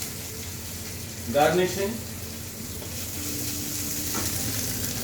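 Mustard seeds and curry leaves sizzling in hot oil for an Indian-style prawn egg fried rice, a steady frying hiss with a brief louder burst as ingredients hit the pan, a short spoken word over it.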